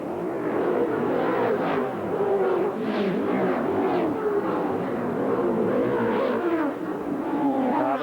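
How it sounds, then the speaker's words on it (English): Touring race cars of a 1983 Amscar field, led by a Ford Falcon, roar around Amaroo Park Raceway in a dense, continuous engine wash, with surging revs rising and falling as the pack sweeps by. "Sights and sounds of the cars."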